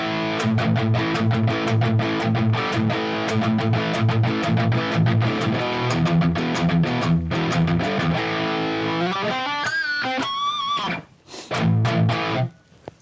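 Distorted electric guitar riff through a Plexi amp preset on a Valeton GP-200, no delay, loud and dry with crunchy chords and a run of bending lead notes near the end, then a brief pause before chords return.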